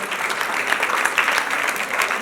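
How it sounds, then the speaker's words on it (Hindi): A seated audience at a Rajasthani Mahila Mandal social event in Mumbai claps steadily in welcome for a guest, a dense even patter of many hands at moderate level throughout. "एक बार जोरदार तालियों द्वारा हम स्वागत करते हैं हमारी अपनी दमयंती बाई पीटी"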